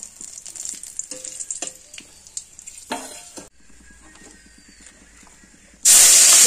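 Bay leaf, whole garam masala and dried chillies hit hot oil, giving a crackling spitting sizzle with scattered pops that settles into a softer steady fry, then a sudden loud hissing surge near the end.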